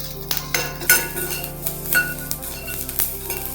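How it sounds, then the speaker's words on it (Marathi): Green chillies for Chinese bhel get tossed in a pan over high flame, with metal clinks and scraping of a spatula against the pan over a low sizzle, in quick irregular strokes. "हाय फ्लेमवरतीच करतोय आपण म्हणजे त्या मिरच्यांचा रंग पण बदलत नाही आणि ते आपल्याला सॉफ्ट करायचं नाहीये अगदी एखादा मिनिटच परतायचं"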